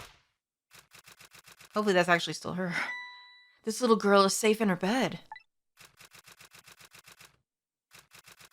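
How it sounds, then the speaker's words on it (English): A woman types on a typewriter in the game Ghost Trick, sharp rapid keystroke clicks in quick even bursts, which stop while a voice speaks and then pick up again afterward. "That lady's still typing away."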